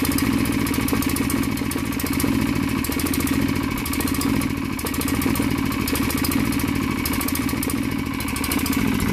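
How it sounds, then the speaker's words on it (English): A small engine running on hydrogen idles steadily at a fast, even pulse, loud and close, with no talking over its continuous drone. "I'm still running an engine now"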